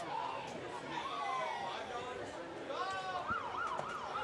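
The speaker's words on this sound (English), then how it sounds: "So we have a emergency services vehicle heading down Wyatt Street. The sirens you hear in the background." A distant emergency vehicle siren wails up and down behind steady crowd chatter and a voice talking at a high school football game, the rising and falling sweeps clearest near the end.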